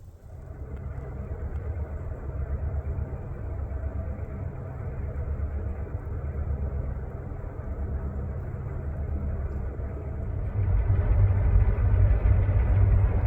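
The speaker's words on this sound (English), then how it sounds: "as the train gets closer and the snow intensifies" Low, steady rumble of a New Brunswick Southern Railway train drawing nearer through rural snow, growing louder toward the end, with a constant hiss of wind and weather.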